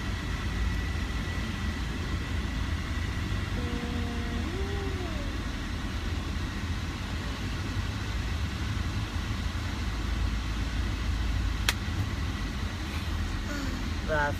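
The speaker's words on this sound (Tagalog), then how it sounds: "Traffic." Road traffic heard from inside a van: a steady low engine and road rumble fills the cabin, with a faint brief tonal whine partway through and a sharp click near the end.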